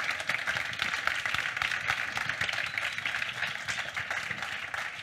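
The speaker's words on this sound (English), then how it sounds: "Please, a round of applause for the panelists" An audience at a songwriters' conference on metadata and online monetization applauds its panelists, dense and steady clapping from many hands that stays loud and even from start to finish.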